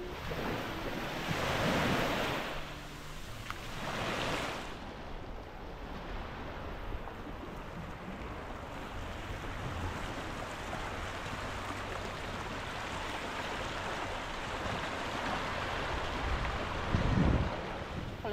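Mediterranean sea waves breaking on a Corsican beach, a steady broadband wash of surf with gusty wind buffeting the microphone, louder swells near the start and a sharp splash toward the end.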